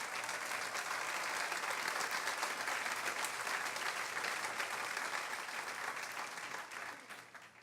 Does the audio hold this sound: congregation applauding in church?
yes